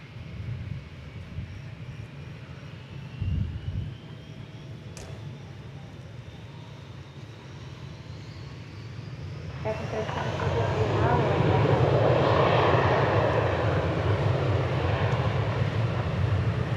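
American Airlines jet arriving at DFW Airport, a steady distant engine rumble that swells louder and broader in its final seconds as the aircraft draws near, with a brief thump early on.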